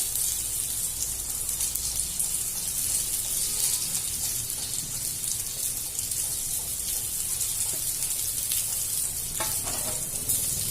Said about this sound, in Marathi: हे बघा पूर्ण तवा भरून आपल्या मिरच्या ठेवल्या गेल्या आहेत